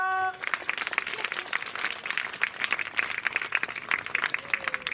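Applause at an ashram ceremony honouring a standard-6 student during a Guru Purnima gathering: a crowd clapping steadily and fairly close for several seconds after a brief tone.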